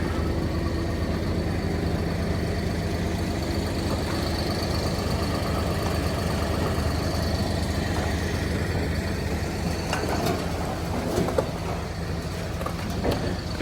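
A Logzilla firewood processor with its conveyor runs steadily in a wood lot, a continuous low engine drone with mechanical clatter and a few sharper knocks near the end, close and even throughout.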